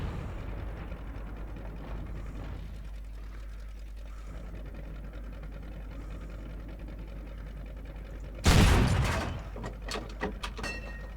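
A single heavy cannon blast from an M56 Scorpion tank destroyer in World of Tanks, sudden and loud against a steady engine hum, with a fading rumble and faint clanks after it.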